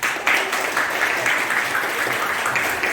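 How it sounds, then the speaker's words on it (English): A crowd claps steadily throughout at a school quiz competition, dense and continuous applause from many hands at moderate volume. "give a big round of applause for Achiever's House"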